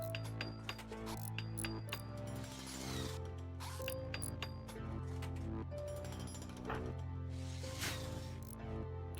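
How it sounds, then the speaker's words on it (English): Rapid clinking and ratcheting mechanical mining sounds from the video game RimWorld repeat in quick, regular bursts over a soft game music bed, quiet overall with no talk. "It's like barely mining noises is so fast."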